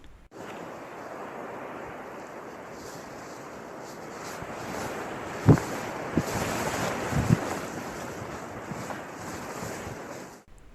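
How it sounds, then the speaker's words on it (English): Steady wind buffets the microphone at Cow Green Reservoir in Upper Teesdale, an exposed open place, a broad rushing roar with a few brief gusty thumps midway. "Wind sound at Cow Green."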